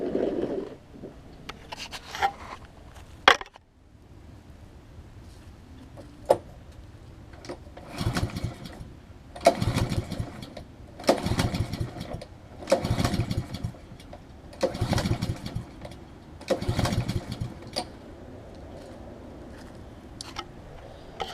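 A Black Max lawn mower engine is cranked repeatedly, with about six bursts of pulling and sputtering at a steady rhythm that never catch and run. It is close and fairly loud, with no talk.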